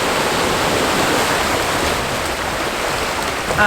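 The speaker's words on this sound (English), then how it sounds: "I'm just waiting on a bit of a decent wave coming over, just so that I can catch a bit of splash and a bit of movement in that water." Sea waves wash and splash steadily at Seaham harbour beach on the North East English coast as the tide goes out, a loud, continuous roar of surf with no voices.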